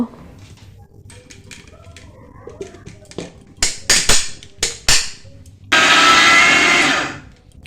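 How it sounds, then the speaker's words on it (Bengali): An electric mixer grinder pulverizes soaked rice into flour in a mixing jar, starting with a few short, loud pulses, then breaking into a steady, harsh, close whir that runs for about two seconds before it stops. "চালটাকে একটা মিক্সিং জারের মধ্যে নিয়ে গুঁড়ো করে নেব"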